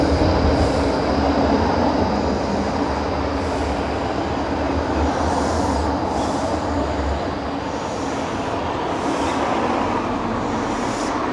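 A tram rolls steadily past on a Fitzroy street in Melbourne, near and loud, with continuous rail rumble, faint clickety-clack and a high wheel squeal.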